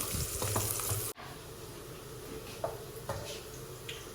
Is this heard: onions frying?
yes